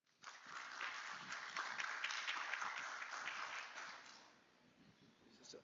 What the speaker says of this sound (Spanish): Le brindamos un caluroso aplauso.